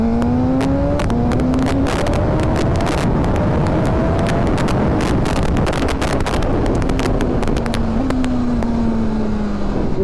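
A BMW S1000RR sport motorcycle engine heard while riding, loud and close with heavy wind rush over the microphone, pitch rising through the revs and shifting back several times.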